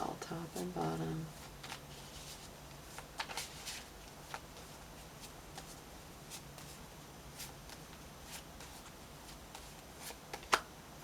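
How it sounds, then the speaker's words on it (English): Tarot cards being shuffled and handled, a soft papery riffle near the start followed by scattered light card flicks and taps, faint and close, with quiet room noise throughout and no talk. "let's pull two major arcana cards from the tarot"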